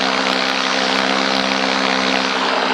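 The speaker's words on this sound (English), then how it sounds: "I definitely stay away when those jet planes are flying because they are fast." A small radio-controlled jet plane flies at a model airfield, its engine giving a loud, steady whine that stays close and constant throughout.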